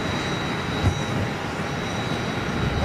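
British Airways jet airliner in BEA retro livery, a steady distant engine rumble and hiss held evenly throughout, alone without talk.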